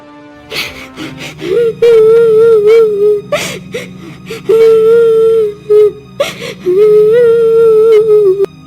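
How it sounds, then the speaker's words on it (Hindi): Loud, close wailing cries rise in long sustained moans, three drawn-out bouts separated by gasping breaths and whimpers. "अरे ये रोने की आवाज किसकी है?"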